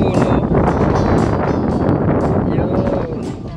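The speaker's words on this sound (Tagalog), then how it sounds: "Sarap ng hangin" Outdoor wind gusting steadily across the microphone at an old golf course in Canlubang, a broad continuous rush with rustling, loud and close throughout, with faint voices in the background.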